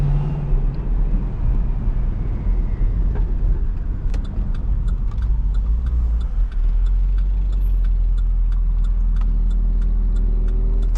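A 600 HP Cadillac CTS-V being driven through city streets gives a loud, steady low engine drone with a faint high whine and light ticking over it throughout.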